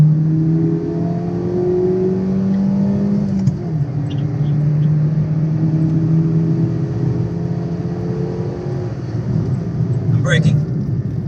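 A car accelerating hard from 30 mph in second gear: a loud, steady engine drone rising gradually in pitch from inside the cabin, with people talking over it throughout.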